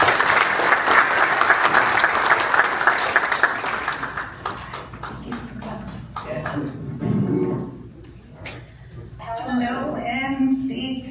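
An audience applauds as a keynote speaker takes the stage at a tech leadership conference, loud steady clapping from a crowd that swells early then tapers off, with the speaker's voice emerging over the fading applause.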